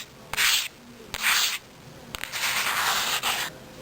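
A hand rubbing the matte plastic finish of a Nintendo DSi handheld console, close, soft papery swishes in four short strokes of varying length with brief pauses between, no talking.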